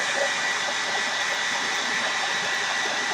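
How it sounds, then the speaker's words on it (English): A continuous, steady whooshing roar of a hair dryer blowing to dry Mod Podge, loud and close with no pauses or voices. "let me get the hair dryer real quick"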